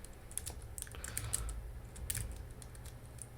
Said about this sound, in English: Now, I don't know what I'm typing.